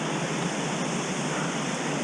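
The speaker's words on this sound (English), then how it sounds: "This is one of the better waterfalls probably in the state, if not the entire country." Wallace Falls, a large mountain waterfall, roars in a steady, dense broadband rush that stays loud and unchanging throughout, with no voices over it.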